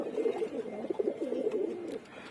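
Male racing pigeons coo in a run of soft, throaty, rolling calls, close and fairly loud, several coos in quick succession over a quiet background, no one speaking.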